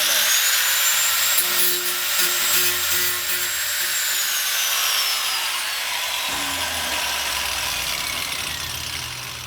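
A power tool grinds a metal can's outer surface in preparation for welding while building a wood gasifier, a loud continuous whine that steadies and shifts pitch partway through, close by.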